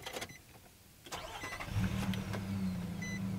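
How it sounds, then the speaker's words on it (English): A 2019 Nissan Frontier Pro-4X with its VQ engine cranks briefly, fires, and settles into a steady, close, humming idle. "Now, starting the vehicle up,"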